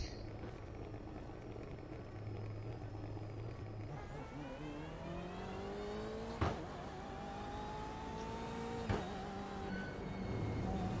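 GTE race car engine in a Le Mans racing game, droning steadily then rising in pitch as it accelerates through the gears, with two brief sharp knocks along the way.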